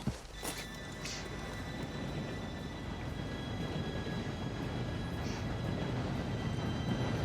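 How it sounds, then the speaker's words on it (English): A train arrives in Red Dead Redemption 2 as a faint, steady rumble of rolling rail noise, with a sharp clank near the start and a thin whistle-like tone held throughout. "Train should be here any minute now."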